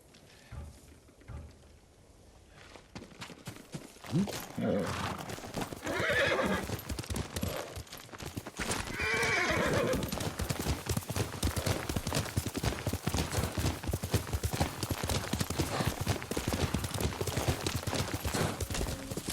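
A horse whinnies loudly over steady clopping hooves in the video game Ghost of Tsushima, with rumbling action and bursts like distant gunfire building through the scene.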